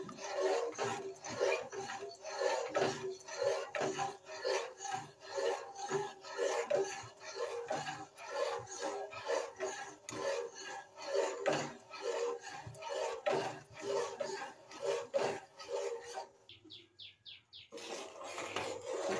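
Milk being stirred in a pot as it boils down for homemade sour yogurt: a steady run of soft scraping and rubbing strokes, close and fairly quiet, with a brief pause near the end before the scraping resumes.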